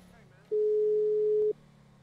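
A single steady phone call tone in GTA V sounds for about one second, clear and close, with faint background hum before and after.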